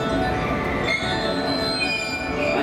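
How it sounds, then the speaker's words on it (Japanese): A train at Osaka Station during weekday evening rush hour rumbles into motion with steady mechanical noise, wheels screeching faintly as it gets going, loud and close throughout. "列車動きます。"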